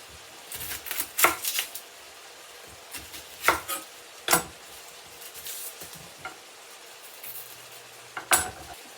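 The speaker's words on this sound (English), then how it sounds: "now we're going to get an onion chopped up" Knife chopping an onion on a cutting board, a handful of irregular, sharp knocks spread across several seconds with quieter shuffling between them, close by and without speech.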